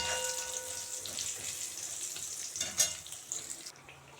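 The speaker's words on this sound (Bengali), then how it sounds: "বড়ি ভেজে নিচ্ছি।" Lentil dumplings fry in hot oil in a kitchen where fish was just fried, giving a continuous hissing sizzle with light stirring bumps that fades near the end.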